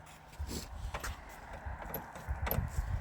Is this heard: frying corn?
no